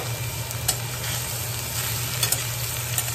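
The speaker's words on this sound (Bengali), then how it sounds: "এবারে সবগুলোকে একসাথে খুব ভালোভাবে ফ্রাই করবো" Boiled drumstick stems and lightly fried radish pieces fry together in a pan with a constant, even sizzle, broken by a few sharp scraping clicks as the vegetables are stirred.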